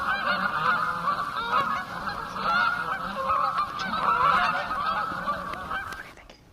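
A flock of geese honking continuously, dense overlapping calls sustained at steady loudness throughout, then cutting off abruptly near the end.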